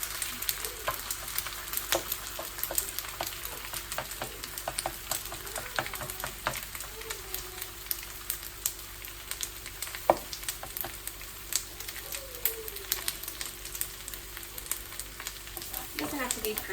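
An egg fries in a hot pan for okonomiyaki, giving a steady soft sizzle with faint crackles and pops running alone at low level throughout.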